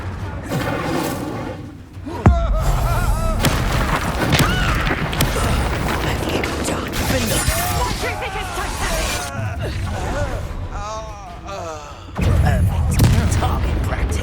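Hogwarts Legacy spell blasts from Confringo and Incendio on PS5 Pro, a loud booming impact followed by sustained crackling, rumbling magical effects, with a second blast near the end, under a voice casting spells.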